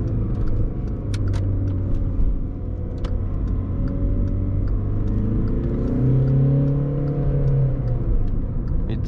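A VW Polo 1.6 TDI 90 hp diesel with a 7-speed DSG gearbox accelerates, its engine drone rising and falling through the gears as a steady cabin rumble and whir, heard from inside without talk.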